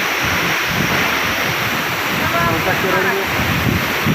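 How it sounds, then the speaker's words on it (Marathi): A tall waterfall near Arale village, set among coconut palms, roars as a steady, loud, unbroken rush of falling water with some wind buffeting the microphone throughout. "आणि अतिशय फार सुंदर हा धबधबा आहे"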